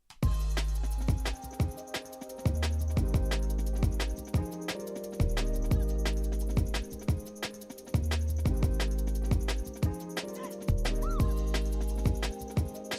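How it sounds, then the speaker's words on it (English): A full liquid drum and bass groove with loud crash cymbals washing over it, an 18-inch crash hit early and a brighter 14-inch crash eight bars later, alongside bass and keys. "18-inch crash and then 8 bars later the 14-inch crash"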